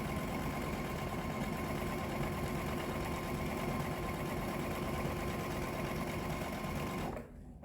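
Sewing machine stitching a fabric strip onto quilt blocks for a rick rack table runner, running in a fast, continuous mechanical whir close up, stopping abruptly near the end.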